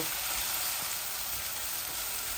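Onions frying in a pan until reddish, a steady broadband sizzle holding at a constant level throughout with no other sounds.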